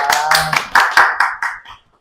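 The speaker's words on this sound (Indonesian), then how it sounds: "Asik, tepuk tangan." A few people clap in a podcast studio, a quick run of sharp, close hand claps that slows and fades out over about two seconds while someone speaks briefly over the start.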